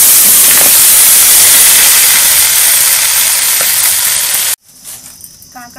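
Malabar spinach with its stalks, pumpkin and potato hit hot oil in a pan, giving a loud, sustained steam hiss and sizzle that cuts off abruptly, followed by quieter clatter and faint sizzling.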